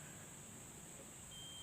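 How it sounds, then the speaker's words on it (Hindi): A multimeter beeps steadily while its probes test the terminals of a shorted transistor from a Samsung kit, a thin continuous tone heard faintly over background hiss. "तीनों टर्मिनल पे जो है ये बीप साउंड शो कर रहा है"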